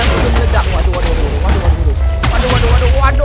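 Explosions tearing through a house in a modded Minecraft world, a dense series of deep booms and crackling blasts rolling together, loud and continuous.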